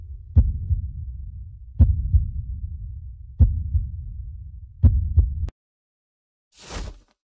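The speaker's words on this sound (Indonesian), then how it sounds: "Karena jantungmu deg-degan ya" A heartbeat sound effect in a dramatic scene thuds in slow, deep, evenly spaced beats, four single thumps then a quick double, close and heavy, before falling silent and ending with a brief soft whoosh.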